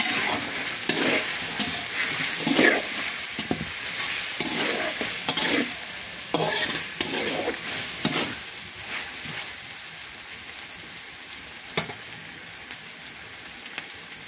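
Onion frying and being stirred in a pan with cardamom for homemade Afghan Kabuli pulao: a steady soft sizzle broken by repeated scraping stirs, close and fairly quiet, with no talking.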